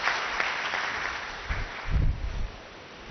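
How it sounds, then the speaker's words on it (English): Audience applause in a hall at a Brahma Kumaris conference session, a steady moderate wash of clapping heard from a distance with a few low thumps partway through. "A very loud applaud for Dadi Ratan Mohini ji"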